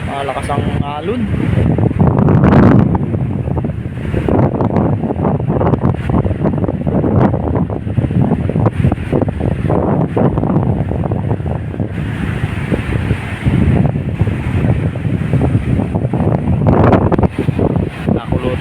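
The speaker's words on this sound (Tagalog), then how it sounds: "malakas ang alon." Strong wind buffets the microphone on a small fishing boat at sea, with rough waves and surf roaring steadily throughout as rain approaches; someone talks over the constant noise.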